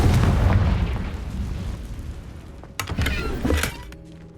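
A Confringo fire spell in the video game Hogwarts Legacy bursts with a loud rumbling explosion that fades out, followed by a couple of sharp crackling bangs near the end, with no talk over it.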